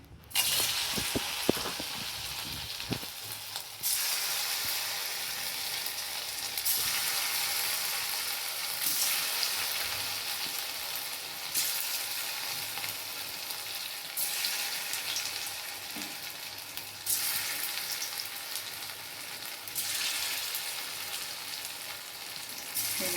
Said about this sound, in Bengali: এবার আমার এগুলো ম্যারিনেট করা হয়ে গেছে আমি এবার কড়া গরম হয়ে গেছে এবার ভাজতে দিচ্ছি